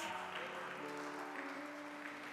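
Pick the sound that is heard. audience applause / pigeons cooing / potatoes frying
audience applause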